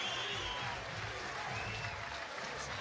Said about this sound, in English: The noise from the crowd.